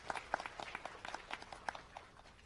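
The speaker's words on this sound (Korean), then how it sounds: "수고해주신 RPG 런팀에게 다시 한번 큰 박수 부탁드리겠습니다." Audience applause at a game audition event for an RPG development team, a scattered round of clapping from a modest crowd at moderate distance, steady for a couple of seconds and then thinning out.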